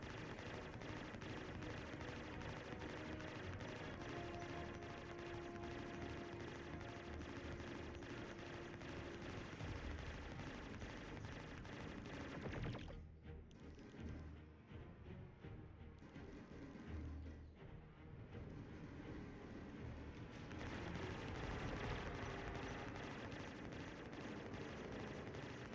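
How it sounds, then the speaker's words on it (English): An automated point-defense gun on a spaceship in a space video game fires long, rapid bursts, a continuous rattling barrage with heavy booming impacts that drops out briefly midway before resuming at full intensity. "I forgot this thing also has a point defense. So that too is nice. Sort of got myself an automated gunner."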